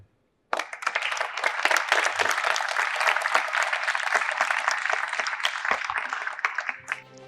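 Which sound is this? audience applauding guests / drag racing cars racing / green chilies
audience applauding guests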